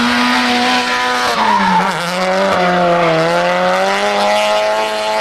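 A race car at the World Time Attack Challenge screams past with a high, harmonic engine note that dips and climbs as it brakes and accelerates, tires squealing through the corner; loud and continuous, no voices.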